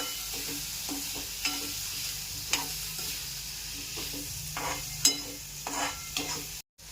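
Vegetables coated in pulao masala sautéed in a pan for veg pulao, with a spoon scraping and stirring in repeated strokes over a steady low sizzle, close and moderately loud, with no voices.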